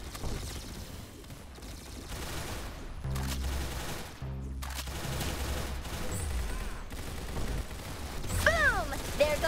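Roblox Arsenal gameplay fills the clip with bursts of video game gunfire, rapid popping volleys and clattering weapon mechanisms. A short electronic chirping effect follows near the end.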